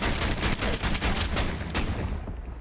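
Gunfire in the Tomb Raider video game, with a rapid burst of loud close shots cracking in quick succession before tailing off into a fading ring.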